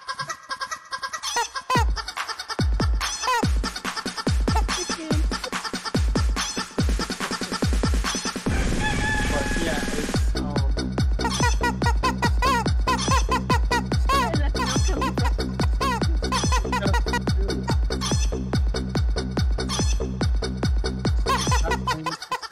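Chicken clucking effect from the Unlock! game app: a rapid string of sharp, loud clucks and squawks that builds into a dense, steady rhythmic clucking pattern.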